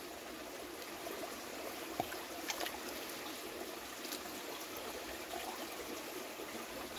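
Clear spring water in the mountains flows steadily in a soft, constant trickle and gurgle, with a few faint clicks and splashes over the quiet running sound.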